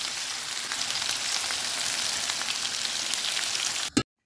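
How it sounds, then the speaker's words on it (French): Chicken pieces sizzle and crackle steadily in a dry pan with no oil, a close, continuous frying hiss that cuts off abruptly at the end. "je vais retourner les morceaux de poulet qui est en train de griller"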